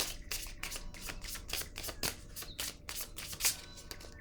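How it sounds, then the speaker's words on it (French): Playing cards being handled and laid down on a table, a dense run of crisp papery flicks and snaps, close and moderately loud with one sharper slap near the end. "je vais déposer une autre carte ici"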